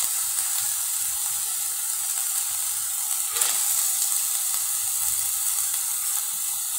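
Sprouted green moong frying with shepu (dill leaves) in a pan, giving a steady close sizzle and hiss throughout, with a brief stir-like scrape midway and no talking.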